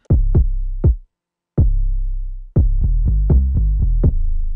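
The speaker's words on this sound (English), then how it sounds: "this is pretty much, you know, the 808 and the kick coming together in the song" An 808 bass and kick drum lock together in a hip-hop beat, with deep booming hits in a bouncing rhythm, some short and punchy, others sustained with long low tails, heard loud and alone.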